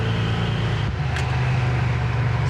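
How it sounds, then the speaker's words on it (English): A 1968 Chevrolet Chevelle engine drones steadily, dipping briefly as an automatic gear change occurs, then pulling again at a steady pitch from inside the cabin. "I'll go through the gears automatically here too"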